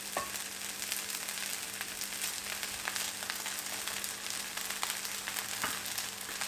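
Egg fried rice with scrambled egg stir-frying in a pan over high flame, a steady close sizzle broken by occasional scraping clicks of a spatula, continuous with no talking.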